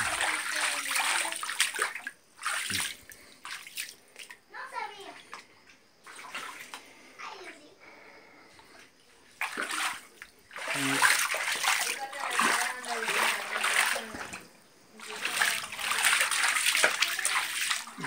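Water pours and splashes into a container such as a tub, sloshing in uneven bursts at close range, with a voice and other voices talking over it at times.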